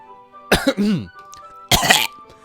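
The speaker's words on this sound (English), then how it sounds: "I clear my throat." Two loud, close throat clearings a moment apart, raspy and voiced, over a faint steady background hum.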